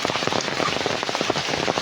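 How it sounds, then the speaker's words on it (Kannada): Heavy monsoon rain pours down in a rural area, a dense, steady patter of drops striking surfaces close by, loud and unbroken with no voices. "ತುಂಬ ಮಳೆ ಬರ್ತಾ ಉಂಟು"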